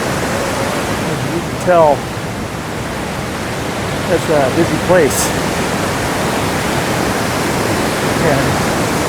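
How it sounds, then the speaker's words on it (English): The Merced River roars beneath the Vernal Falls Bridge on the Mist Trail in Yosemite National Park, a steady loud broadband rush of fast water filling the scene while people talk nearby. "if you hear that roaring sound, that is the Merced flowing under the Vernal Falls Bridge"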